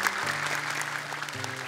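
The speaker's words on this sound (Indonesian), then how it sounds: "Boleh tepuk tangan lebih meriah lagi untuk Naufal." Studio audience clapping at an Indonesian Quran memorization television show, a steady spread of many hands applauding under a low musical hum, without speech.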